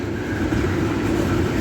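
A locomotive switching near a railroad crossing gives a steady low rumble and droning engine tone with faint rail clatter, close and continuous across the short stretch.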